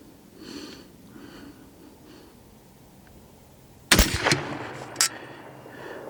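.308 rifle built on a BCA upper, firing Match King bullets loaded with IMR 4895 powder: after quiet outdoor ambience, a loud sharp report is followed by a brief echo, then a second crack about a second later.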